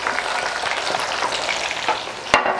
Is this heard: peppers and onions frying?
yes